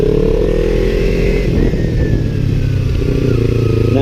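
Motorcycle pulling away up a big hill, its engine loud and close throughout, a steady rumbling drone with slight rises as it accelerates, no voices.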